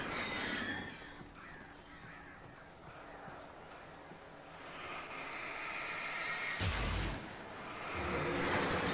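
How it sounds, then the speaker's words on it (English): Crows cawing in the video game Alan Wake, several harsh caws repeating over a hissy dark ambient backdrop, with a low rumbling burst near the end and no speech. "How many fucking birds are here?"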